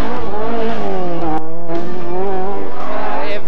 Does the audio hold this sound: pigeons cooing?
no